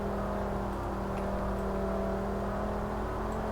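Simulated car engine in the Roblox game Greenville, a steady droning motor note with a whirring tone held evenly throughout, moderately loud with no speech.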